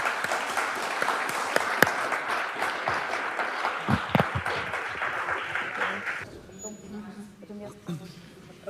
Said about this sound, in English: Let's give an applause to our journalists.